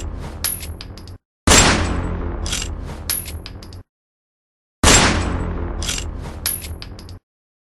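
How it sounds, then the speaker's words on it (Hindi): Revolver shots fire in bursts, sharp cracks each trailing into a metallic, scraping ring-out, separated by stretches of dead silence, loud and close with no voices. "मैसन पागलों की तरफ पीछे बिना देखे ही गोली चलाने लगा।"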